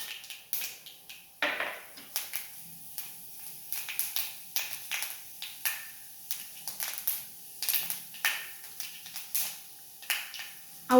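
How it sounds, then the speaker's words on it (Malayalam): Mustard and fenugreek seeds popping in hot coconut oil, a steady run of sharp, scattered crackles and pops close by, with no talking. "ആ വെളിച്ചെണ്ണ ചൂടായി വന്നപ്പോൾ കടുക് ഇട്ട് കൊടുത്തു"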